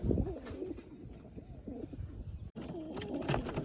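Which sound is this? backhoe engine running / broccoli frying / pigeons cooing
pigeons cooing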